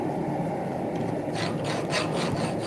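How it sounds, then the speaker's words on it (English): A mill file rasps across a hot railroad spike of steel, a close, dry scraping in a few uneven strokes that grow sharper toward the end, heard on its own. "you can use a mill file for hot work as well"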